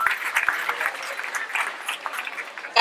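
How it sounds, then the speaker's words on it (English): Sustained applause from a crowd honoring graduates at a Kanifing Senior Secondary School graduation ceremony in 2022, dense and steady clapping that fills the whole stretch before a louder burst at the end. "Can we give them a big round of applause, please?"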